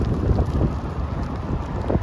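Gusts of wind near 50 mph whip through Pullman, Washington, battering the microphone in a loud, continuous rumbling roar with pulsing surges and no voices.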